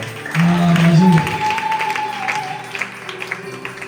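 A church congregation applauds during a worship service, a steady wash of clapping under a loud voice holding a sustained tone, with the crowd noise carrying on throughout.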